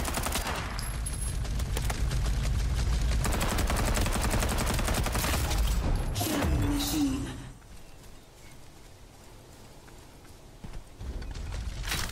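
Rapid bursts of gunfire in the video game Farlight 84, loud and continuous for several seconds before the firing stops and the scene drops to quieter ambience.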